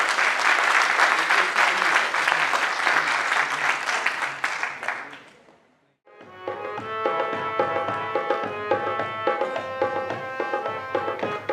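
Loud, dense applause from an audience at a children's play staged by girls of a shelter home, sustained for about five seconds before fading out, after which music begins.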